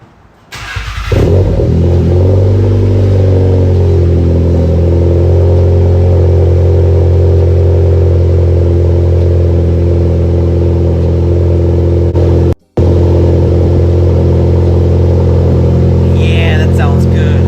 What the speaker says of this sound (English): let's get us started with a little cold start today